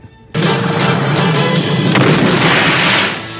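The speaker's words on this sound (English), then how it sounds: "he comes with this big cannon accessory right here on the back, and it is firing" Toy cannon accessory on the back of a collectable figure firing a recorded sound effect: an abrupt loud boom that swells into a sustained rumbling explosion lasting about three seconds, then tapering slightly, with no talking.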